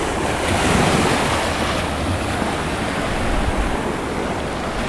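Surf and wind at Darkwood Beach, Antigua, near Foggy Peak: a steady, loud wash of breaking waves with gusty wind buffeting the microphone throughout, no voices.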